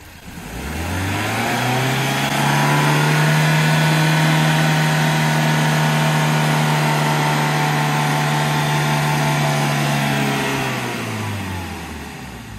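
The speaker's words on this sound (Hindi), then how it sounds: "अभी इंजन भी चेक हो रही है" A Maruti Brezza's engine being revved during an inspection, a steady mid-pitched drone that climbs and holds for several seconds before easing back down, close and loud with no talk over it.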